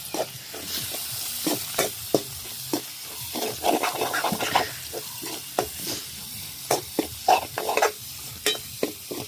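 Repeated scraping and stirring of a mixture in a pan for a salted prawn-style sothi curry, with quick irregular strokes over a soft background sizzle, close up and without talk.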